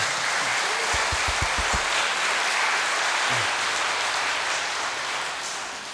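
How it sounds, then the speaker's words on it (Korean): A church congregation gives encouraging applause meant for Japanese brothers, a dense, loud wash of clapping that holds steady and begins to fade toward the end, with a few low thumps early on. "우리 일본 형제들 힘을 내도록 격려의 박수를 한번 보내겠습니다"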